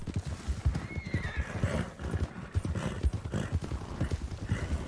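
A horse whinnies over a steady clip-clop of hooves in a video game, busy and close, with a continuous background texture behind it.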